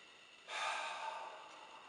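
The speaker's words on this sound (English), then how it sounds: "Keep breathing, letting yourself expand and swell up." One deep breath drawn during a breathing exercise, a soft airy inhale that swells suddenly and then eases off, close and quiet, with no talking.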